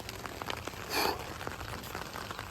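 Steady rain falls on a cold night during a road trip, a soft continuous patter of drops with one brief louder splash, quiet and with no talking.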